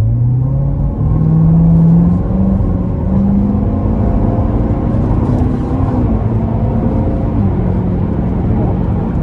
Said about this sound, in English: I'm gonna give it some throttle here.